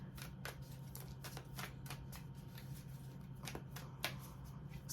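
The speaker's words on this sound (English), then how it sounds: "I'm going to give a couple more shuffles" Tarot cards being shuffled close up, a run of quick papery riffles and soft slaps in irregular bursts, with a faint low hum underneath and no voices.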